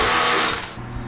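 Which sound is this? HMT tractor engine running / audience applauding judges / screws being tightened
screws being tightened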